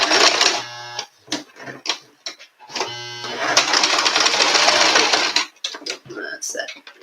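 Sewing machine with a guide foot stitching a bodice front side seam through double and triple layers of fabric, running in a steady mechanical buzz in several bursts, one long run in the middle, with brief talk in the pauses.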